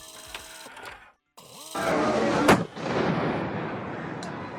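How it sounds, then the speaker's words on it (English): Fireworks packed in a bag of flour explode in a city street in Upper Manhattan with one sharp, loud bang, followed by a roaring, crackling rush of noise and distant street ambience. "That explosion in the middle of the street is actually fireworks in a bag of flour."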